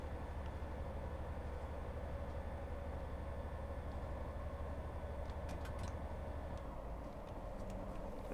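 Class 158 diesel multiple unit engine in Train Simulator Classic, on the Derby to Matlock line, a steady low rumbling drone with faint clicks, continuous and fairly quiet with no talk.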